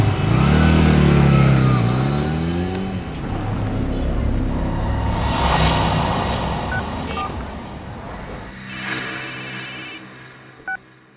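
A loud motorcycle engine revs up and then fades away over several seconds, followed by quieter background noise and a few faint electronic beeps near the end.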